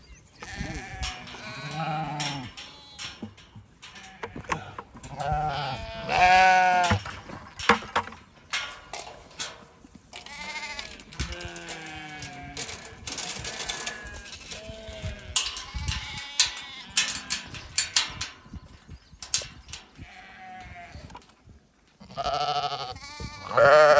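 Sheep bleat repeatedly on a farm, several animals calling near and far in overlapping, wavering cries, loud and continuous with no talk.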